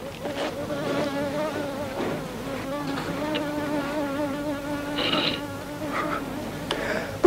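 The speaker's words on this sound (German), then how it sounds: "Diese verdammte Fliege." A fly buzzes steadily near the listener aboard a passenger ship, with a continuous droning hum that rises and falls in pitch over several seconds.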